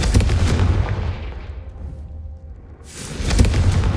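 Confringo fire spell cast in the video game Hogwarts Legacy, giving a loud blasting burst at the start, a fading fiery rumble through the middle and another strong burst near the end.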